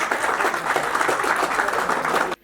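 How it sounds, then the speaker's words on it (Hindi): A room full of attendees at a GATE rankers meet breaks into steady, dense clapping that runs evenly for a couple of seconds, then cuts off abruptly. "जोरदार तालियां फॉर एवरीवन"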